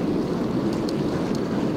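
Wind rushing steadily past a cyclist riding fast along a rural road between villages, a continuous broad roar with no break and no voices.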